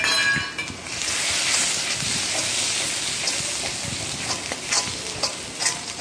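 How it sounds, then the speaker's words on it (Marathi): Ground masala paste sautés in hot oil in a kadhai for mutton, a bright continuous sizzle with occasional scraping stir strokes, close and fairly loud. "तर आता वाटण आपल्याला तेल सुटेपर्यंत परतून घ्यायचं आहे"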